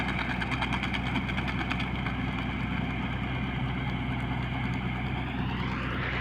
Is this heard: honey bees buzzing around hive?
no